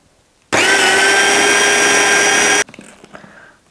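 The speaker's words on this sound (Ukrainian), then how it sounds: "Розбиваємо гарненько блендером до посвітлішання." A loud, steady blender whir grinds poppy seeds with sugar for about two seconds, then cuts off abruptly, leaving faint clattering and handling noises.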